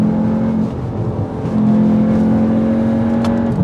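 A Cupra Formentor 310 turbocharged engine hums steadily from inside the car at speed, a loud, continuous droning note that briefly dips and then holds for several seconds before easing off at the end.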